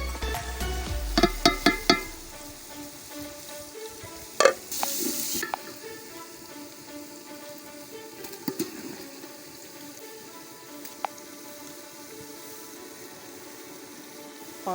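Crackling sizzle of garlic frying in a pan, with a few sharp clinks and scrapes of stirring early on, then a steady quiet sizzle.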